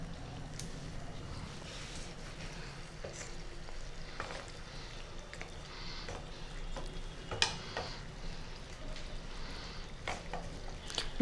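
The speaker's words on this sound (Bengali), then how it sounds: "ঝোল ফুটতে শুরু করে দিয়েছে।" Rohu fish curry broth, with fried fish pieces in water, starts to boil in a pan, giving a quiet, steady bubbling simmer. A few sharper clicks and knocks break through the soft, continuous fizz.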